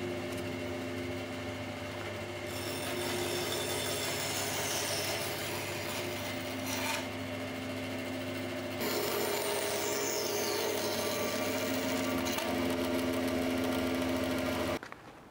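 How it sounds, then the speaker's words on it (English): A running bandsaw cuts wood pieces for a toilet roll holder, a steady motor whine with a rasping, hissing cut that swells and eases as each piece passes the blade, close and continuous until the saw stops, no talking. "take these over to the bandsaw and cut them out"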